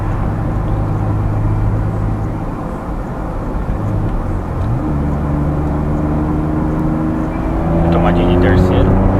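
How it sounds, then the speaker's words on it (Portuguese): VW Up TSI with a Stage 2 tune pulling hard in third gear from behind a truck on the highway, a steady loud engine drone with rising harmonics as revs climb near the end, heard from inside the cabin. "vou mostrar aqui pra vocês agora uma retomadinha de terceira aqui, saindo de trás do caminhão"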